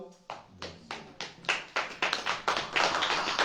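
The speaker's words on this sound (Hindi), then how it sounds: "ताली बजाओ।" Congregation at a Christian prayer meeting clapping hands in unison, a steady rhythmic beat of sharp claps at roughly three per second, growing louder and fuller over a few seconds.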